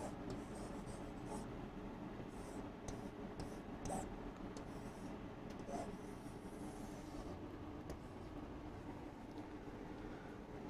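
Chalk or marker writing on a board during a network synthesis lecture, a steady scratchy rubbing that runs almost continuously under a low room hum, with a few slightly sharper strokes near the middle.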